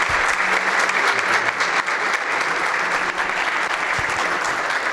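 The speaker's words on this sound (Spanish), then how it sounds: "pido un aplauso para el amigo Gabriel" Audience applause at a panel discussion on cannabis and regional development, a steady, dense wash of clapping from a sizable crowd that fills the whole stretch without breaks.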